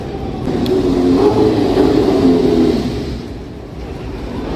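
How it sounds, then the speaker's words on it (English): A small RC car's motor revs and whines at a jump, holding a steady mid-range engine drone for about three seconds before easing off, fairly close and alone. "Little RC car over here."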